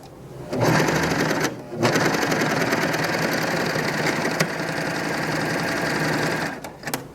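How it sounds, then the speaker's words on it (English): A Bernette b62 coverstitch machine runs a cover stitch line through fabric, a close, loud, steady motorized whir of rapid needle strokes lasting several seconds with one brief pause near the start. "let's just run that other line of stitching right next to that wide cover stitch"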